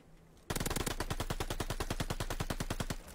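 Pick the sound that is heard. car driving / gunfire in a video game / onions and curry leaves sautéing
gunfire in a video game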